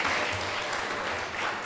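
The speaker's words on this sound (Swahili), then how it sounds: "Tumpigie makofi profesa wetu." An audience at an astro-tourism conference in Mbeya, Tanzania applauds a professor with steady, dense clapping throughout.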